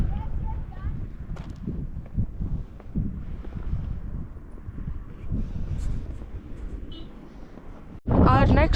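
Wind gusting over the microphone at Namkila Pass on the road to Leh in Ladakh, where prayer flags flap, a low rumbling buffet throughout with a louder burst near the end.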